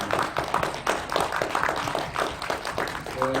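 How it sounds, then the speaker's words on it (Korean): A church congregation at Sunday worship applauds in welcome: brisk, dense hand clapping from many people nearby, continuous for the whole stretch. "우리 박수로 환영했으면 좋겠습니다."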